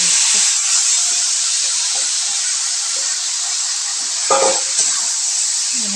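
Leftover cooked rice frying in a pan with peanuts for pulao, giving a steady close sizzle and hiss throughout with a few faint stirring scrapes and clinks.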